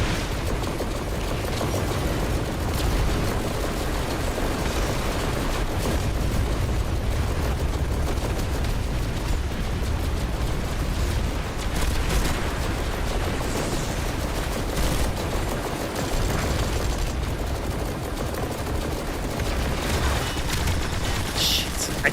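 Dense, continuous barrage of airstrike explosions and gunfire in a multiplayer shooter video game, loud and unbroken throughout, with players talking over the chaos.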